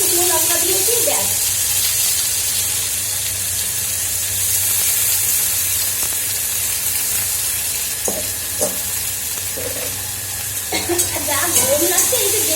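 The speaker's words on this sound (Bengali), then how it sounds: "জল ঝরিয়ে উচ্ছে আলু পেঁয়াজ সব দিয়ে আজকে বানাবো ভাজা" Bitter gourd, potato and onion fry with five-spice seeds and dried red chili, an even hissing sizzle throughout with scattered stirring scrapes and a few brief faint sounds over it.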